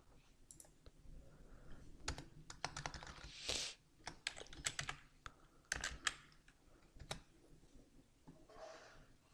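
Keys on a computer keyboard click in quick, uneven bursts of taps, close and fairly quiet, with brief pauses between runs of typing.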